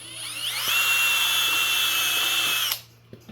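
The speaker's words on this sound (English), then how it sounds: "we're going to drill a hole right towards the end of this pipe" A power drill whines steadily at high pitch for a few seconds while drilling a hole near the end of a pipe for a catfish jug, then cuts off abruptly, leaving a quiet room with a couple of small knocks.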